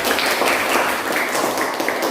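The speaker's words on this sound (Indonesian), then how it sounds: "tepuk tangan dulu Bang Farhan" A short burst of steady applause from a group in a classroom lesson, dense and fairly loud, with no talking over it.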